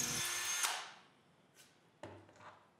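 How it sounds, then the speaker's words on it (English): A Canadian Tire Maximum hammer drill bores into a concrete block in one loud, harsh burst that quickly winds down, followed by a couple of faint knocks and a brief second whir. "Since one of them is a hammer drill, I have to drill a hole into a concrete block."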